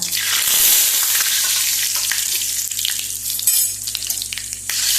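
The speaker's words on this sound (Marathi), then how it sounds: "आतां हे तेल तापलां. आतां तातूंत हे पळय दाळ घालुया, हिंग घालुया" Dal and asafoetida hit hot oil in a Goan home kitchen, setting off a loud, close sizzle that flares sharply at first and then crackles steadily throughout.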